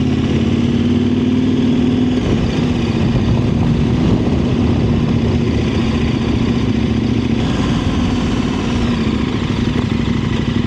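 KTM 1190 Adventure R motorcycle cruising along a city street, a steady, loud mid-range engine drone with wind rush and small shifts in throttle, heard from the rider's position.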